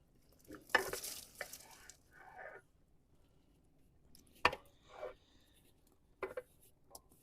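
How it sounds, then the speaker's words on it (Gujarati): Fried beetroot and banana pieces are tipped into an undhiyu pan, giving soft scraping stirs, a sharp clack of a spoon and faint sizzling, quiet and close with gaps between. "હવે નાખીશું બીટ કેળા જે આપણે તળીને મૂક્યા હતા એ"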